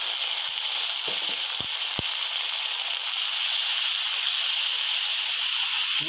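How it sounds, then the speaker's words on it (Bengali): Onion, ginger and garlic paste frying hard in a pan for Bengali chicken kosha, a loud, continuous hiss throughout with a few quick knocks near the start. "পেস্ট, আদা, রসুন সব দিয়ে দিলাম।"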